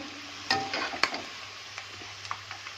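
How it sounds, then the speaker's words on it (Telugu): Thin slices of bitter gourd sizzle in hot oil, with a few sharp stirring clatters early on over a soft, steady frying hiss. "కాకరకాయల్ని ఇలా సన్నగా ముక్కలు కట్ చేసుకోండి నూనెలో వేయించండి"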